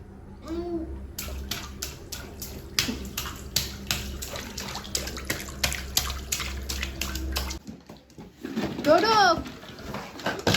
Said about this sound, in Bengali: মগে করে মাথায় ঢালো